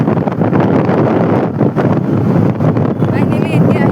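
Wind rushes over the microphone while riding slowly through congested Guwahati traffic, a loud, continuous buffeting roar with uneven gusts and faint background road noise.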